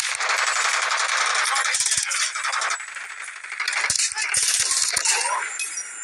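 Rapid video game gunfire crackles loud and dense through the first half, then gives way to scattered sharp shots and clicks near the end, with no talking.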